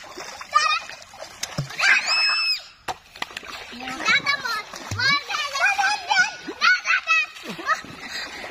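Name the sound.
child splashing while swimming in water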